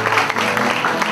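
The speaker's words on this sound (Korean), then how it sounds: "여러분 큰 박수 부탁드리겠습니다" Audience at a youth acting competition award ceremony gives a big round of applause for a silver-prize winner, a dense, loud, steady clapping wash with crowd noise.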